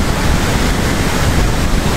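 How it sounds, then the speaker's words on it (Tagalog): Strong typhoon wind in Romblon roars against the microphone, a constant, loud, rushing blast with no pauses or talk. "kusog ang hangin no. Lakas ang grabing bagyo."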